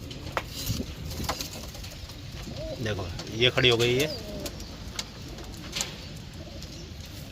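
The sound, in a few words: Malwai pigeons cooing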